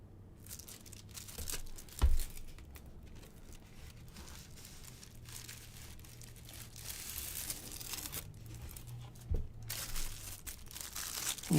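Plastic cover wrapped around an album-themed Hot Wheels Premium diecast package crinkles and rustles steadily up close, with a couple of sharper crackles.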